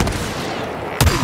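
Gunfire from the Star Wars Battlefront video game, a sharp burst of shots at the end after a stretch of steady game ambience, close and fairly loud.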